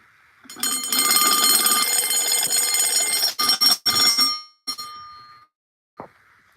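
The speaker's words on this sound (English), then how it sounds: "so that's the bell. It does ring slow when it's on 9 volts" Fire alarm bell powered on 9 volts, ringing loudly and continuously with a slow strike rate, then stuttering in a few bursts before stopping, with a brief final ring.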